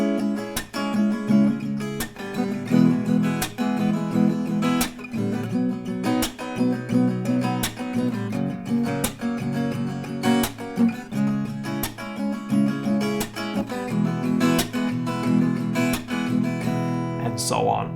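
Acoustic guitar strumming the chords of JVKE's Clouds in time with a steady tempo, two strums per chord, giving a regular rhythmic pattern with bright, ringing strings up close.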